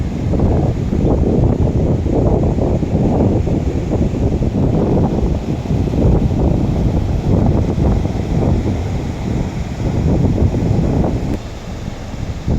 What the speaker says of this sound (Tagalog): Malakas ang hangin kahit medyo mainit.